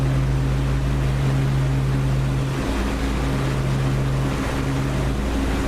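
Simulated aircraft engine in the DCS flight simulator game, a loud steady droning hum that shifts pitch partway through as throttle is pushed up for takeoff, with no talking.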